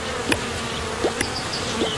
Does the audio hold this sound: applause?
no